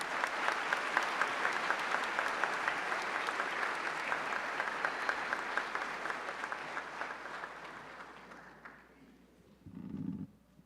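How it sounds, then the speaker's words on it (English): An audience at a high school graduation ceremony applauds in a long, steady wave of clapping that fades away, followed by a brief low murmur. "Let's give these guys a big round of applause."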